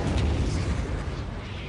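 Imperial Guard artillery in the strategy game Warhammer 40,000 Dawn of War lets out a single loud, deep boom that rumbles heavily through the brief moment.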